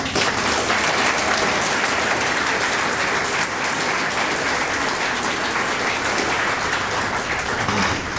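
Sustained applause from a standing crowd at a live political talk event on the gas industry, dense and steady clapping filling the room for the full stretch.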